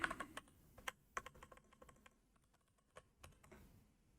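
Keys clatter on a computer keyboard as a terminal command is typed, a quick irregular run of close, faint clicks with brief pauses between bursts.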